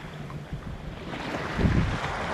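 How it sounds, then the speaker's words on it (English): Wind rises at sea around a sea kayak off Kangaroo Island, a broad blustery rush with water wash that grows louder toward the end, with no voices. "Then the wind picks up."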